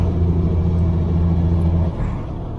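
A 1949 Rover P3 car drives along in third gear, its engine a steady low rumble and hum heard from inside, with the note dropping slightly near the end as it eases off.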